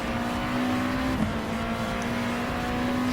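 Race car in a racing video game accelerating out of the second chicane at Monza after a hard downshift to second gear, a steady, sustained engine drone held close and level for the whole stretch.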